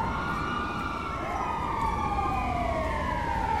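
Several ambulance sirens in GTA 5 wail at once, their overlapping tones rising and falling, loud and close over a steady hum of traffic.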